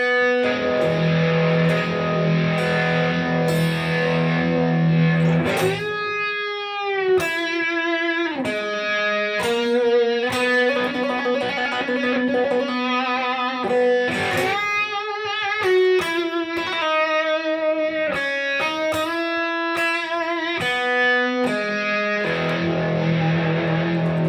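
An electric guitar plays the Star Spangled Banner with a distorted tone and an echo effect, sustained notes ringing out as a steady, loud melody that runs on without a break.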